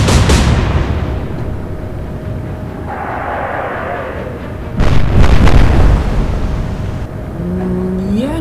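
A naval gunfire salvo in the Atlantic Fleet game with Royal Navy and Kriegsmarine warships, a loud opening boom that rumbles away, then a second heavy blast midway followed by a lingering roar and a rising whistle at the end.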